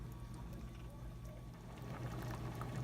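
Soup broth with kale simmers quietly in a pot, a soft low bubbling that grows slightly busier toward the end, with no speech.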